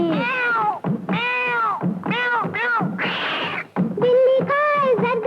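Repeated cat-like meows woven into a Hindi film song, several rising and falling mewing notes in quick succession over musical backing, close and prominent.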